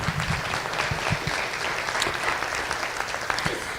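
Steady audience applause at a community gathering honoring fire department supporters, dense clapping from a crowd sustained at even loudness throughout with no talk.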